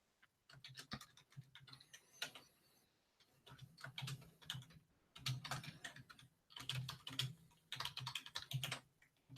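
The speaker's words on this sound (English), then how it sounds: "And let's just type something in there." Fingers type on a computer keyboard in quick clattering runs of keystrokes broken by short pauses, close and steady with no talk.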